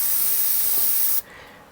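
Airbrush spraying paint onto a model, a loud steady close hiss that cuts off abruptly near the end, leaving quiet room tone.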